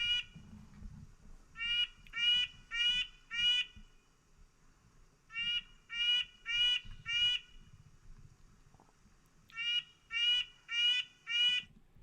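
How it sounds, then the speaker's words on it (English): A nuthatch in eastern woodland repeats a single nasal note in quick clusters of four or five, the bursts coming in three separated groups, clear and fairly close against a quiet background. "The nuthatch is just one single note"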